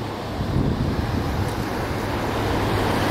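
Steady wind and surf wash across an early-morning Costa Rica beach at 7 a.m., a continuous broad roar of waves with wind buffeting the microphone, loud and close and with no speech.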